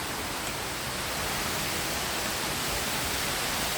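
Tumalog Falls pours in a dense, steady roar of falling water, a continuous broad hiss heard close and fairly loud with no voices over it.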